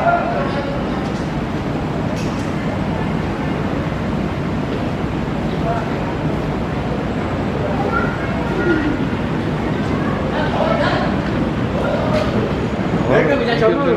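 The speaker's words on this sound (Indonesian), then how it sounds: "Oh, ini stasiun ramai banget ya." A busy train station, Semarang Tawang, with a dense, steady wash of crowd noise and rail ambience all the way through, voices murmuring close and far and no single sound standing out.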